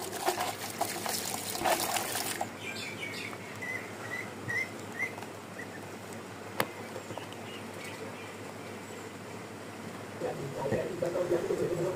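Water splashes and pours for a couple of seconds over chopped vegetables, green chilies, onion and dried fish in a pot, then fades into faint trickling and patter with birds in the background.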